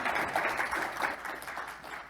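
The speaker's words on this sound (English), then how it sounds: "Clapping works too." A small conference audience applauding after a talk, a soft, fairly faint patter of clapping hands that continues steadily and fades slightly toward the end.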